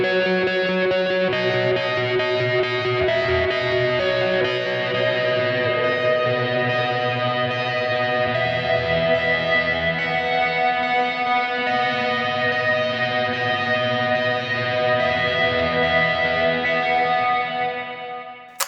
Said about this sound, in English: all we're doing is just kicking on the bigger reverb